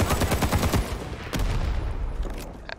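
A BAR automatic rifle in fast-fire mode in Rising Storm 2 hammers out rapid bursts of close, loud shots, then a short pause and further sharp reports and echoing gunfire.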